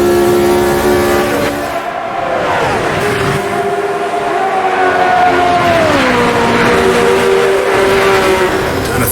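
A 1970s-era racing car on the Spa circuit in Automobilista 2 screams at high revs, its engine note dropping sharply on downshifts, then climbing again as it pulls hard and loud throughout.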